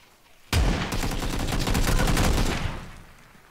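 A shotgun blast in a video game, one loud close shot ringing with a roughly two-second tail of crackle and echo before it fades.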